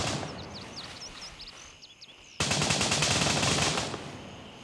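Rapid automatic gunfire from the shooter game Gray Zone Warfare rattles in a sustained burst after a quieter stretch with distant birdsong, loud and fairly close.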